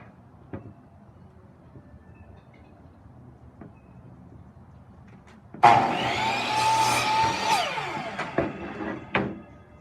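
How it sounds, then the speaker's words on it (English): A saw cuts 5-inch pieces from a discarded cedar fence picket. The first half is nearly quiet with a few faint taps, then one loud, rough cut runs for about three and a half seconds. "I'm going to cut 1, 2, 3, 4 5-inch long pieces out of this fence picket"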